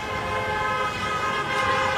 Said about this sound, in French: Tout le monde klaxonne.